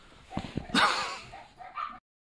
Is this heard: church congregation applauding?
no